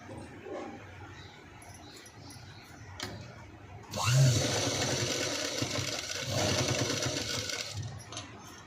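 A sewing machine stitching blouse cloth starts up after a few quiet seconds of small handling noises, then runs in a steady close whir for about four seconds before stopping.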